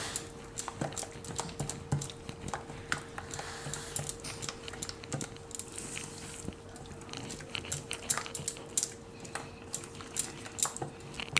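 Boiled baby corn stirred by hand with a spoonful of oil and a pinch of soda in a bowl, giving soft, quiet clicking and squelching taps scattered throughout, close up with a steady low hum and no voices.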